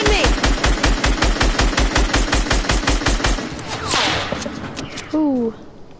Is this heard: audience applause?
no